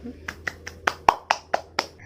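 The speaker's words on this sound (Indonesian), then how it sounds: "beri tepuk tangan dulu dong untuk teman-teman kelompok 1 yang sudah maju ke depan ini" Eight sharp, evenly spaced hand claps of classroom applause after a group presentation, in a steady rhythm, close and clear, with a faint hum underneath.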